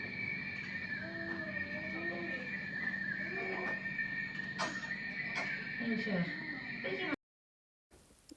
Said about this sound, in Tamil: இது வந்து குதிரை.